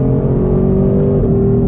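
A 2020 Ford Shelby GT500 Mustang pulls hard in second gear, its engine a loud, steady, close-up drone with a rising revving tone and no voices.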